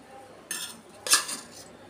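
A spoon stirs rice in a cooking pot while prasadam is made for a Varalakshmi puja, giving two brief, close metallic clinks against a quiet background.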